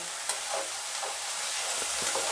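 Frying masala hisses and sizzles as gravy water goes in for a Bhetki kofta curry, a brief, steady, fairly quiet crackle with a few stirring scrapes.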